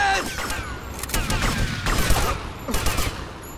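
Gunfire in GTA Vice City Stories: a short, close burst of repeated shots with clattering mechanical noise, loud and busy throughout.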